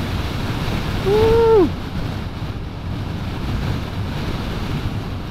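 Strong wind buffets the microphone in a steady broadband roar near roadside windmills on a motorcycle ride in the Philippines, and a short whooping shout from a rider's voice rises above it early on.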